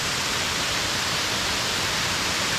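A creek rushes steadily near Twin Falls along Richland Creek, a continuous broadband wash of flowing water heard at close range with no voices.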